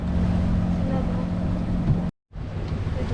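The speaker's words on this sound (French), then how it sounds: "On a gardé le moteur tournant au cas où pour assurer." A sailboat's engine keeps running while the boat sails through the Raz de Sein, a low steady rumble under wind and a voice, cut by a brief dropout near the end.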